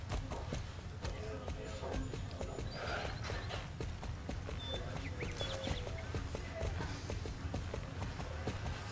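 Steady clip-clop of horse hooves at a brisk pace in the video game Star Stable, with faint background ambience and no talking.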